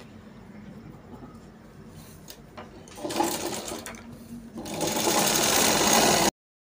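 Domestic sewing machine stitches a seam along an edge in two close, steady runs of fast whirring, the second longer and louder, with a faint low hum before it starts and sudden silence at the end.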